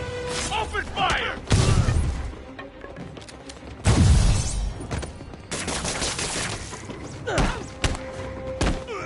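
Bursts of gunfire and heavy impacts in the video game Marvel's Spider-Man, loud volleys and thuds arriving in clusters, with game voices and effects mixed in.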